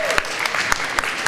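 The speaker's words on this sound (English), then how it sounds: "Let's give her a round of applause" Brief applause at an elementary school morning assembly, a short scatter of claps from a group of children with voices mixed in.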